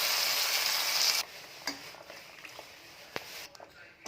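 Mustard seeds, curry leaves and asafoetida hit hot oil while tempering an egg gravy, giving a loud, dense crackling sizzle that drops sharply after about a second into a quieter, steady frying hiss with a few light clinks.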